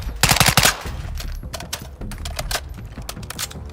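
Honey Badger rifle firing in Modern Warfare 2 on the firing range, rapid bursts of close, loud automatic shots, heaviest at the start and continuing in quicker, lighter rattles.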